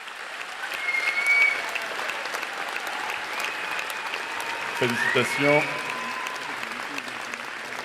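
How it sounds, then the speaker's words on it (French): An audience applauding graduates at a diploma ceremony: sustained, even clapping from a full hall lasting the whole stretch, with a voice speaking briefly over it. "On peut les applaudir très fort."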